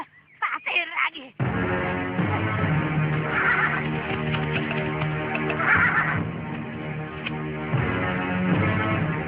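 A horse gives a loud, close whinny at the start, followed by a sustained musical score with further faint neighing and hoof clip-clop mixed underneath.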